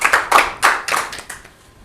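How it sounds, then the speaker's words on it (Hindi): An audience claps at a cultural association event honouring a guest, several bursts of applause swelling and fading in loose waves. "जोरदार तालियां हो जाए।"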